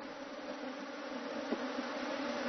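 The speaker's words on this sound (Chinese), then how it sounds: "眼看大蜜蜂开始四散开来，所有人不禁紧张起来" A swarm of giant honeybees hums in a faint, steady drone, the buzzing of many wings blending into one continuous tone that swells slightly toward the end, with no talk.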